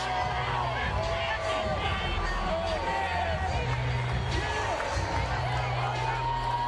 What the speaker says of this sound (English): Hearing it, I would say, rather mildly from the crowd as he comes into view